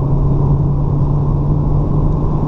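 A Toyota Etios XLS 1.5 automatic accelerates hard from inside the cabin, a loud steady engine drone with a low hum and road rumble holding constant throughout.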